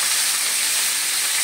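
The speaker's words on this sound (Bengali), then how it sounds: "তেলটা গরম হয়ে গেছে, এখন আমি ভেজে নিচ্ছি। দুটো দুটো করে ভেজে নেব।" Pomfret fish fries in hot mustard oil, a loud, steady, broadband sizzle that hisses continuously throughout with no pauses.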